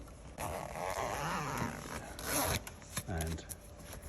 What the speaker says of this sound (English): And then you zip that up.